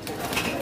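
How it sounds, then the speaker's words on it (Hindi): Pigeons coo softly while being let out, a brief, close, low murmuring with faint background noise. "मैं कबूतर खुलवाता हूँ और ये सारे बाहर आ जाएंगे"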